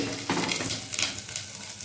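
Chicken pitha fries in a pan with a steady, close sizzle and a few soft stirring scrapes, with no speech over it.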